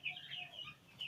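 Chickens on a Nigerian poultry farm, faint clucks and chirpy calls in quick succession, distant and low in level.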